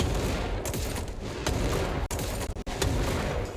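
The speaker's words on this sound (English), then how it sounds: "It's a rocket launcher." Rocket launcher in the video game Control firing charged explosive projectiles, a dense barrage of loud blasts and crackling gunfire packed tightly together with only brief gaps, no voices.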